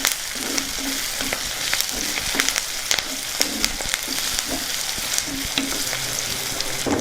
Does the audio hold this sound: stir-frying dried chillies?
yes